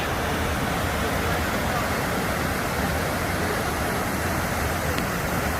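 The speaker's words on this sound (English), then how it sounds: "So here's the falls. I'm right by the water. It's kind of loud." Cataract Falls, a waterfall in Indiana, roars in a loud, unbroken broadband rush heard from right beside the water, steady throughout with no pauses and no voices rising above it.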